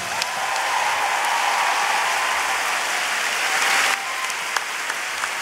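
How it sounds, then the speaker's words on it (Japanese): Concert audience at a singer's first solo concert breaking into dense, sustained applause, a broad wash of clapping that holds steady for about four seconds and then thins into scattered claps. "大きな拍手をお願いします。"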